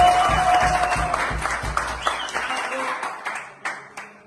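A gathering applauds a national football team, bursts of clapping mixed with a voice at first, then thinning to scattered claps that fade toward the end.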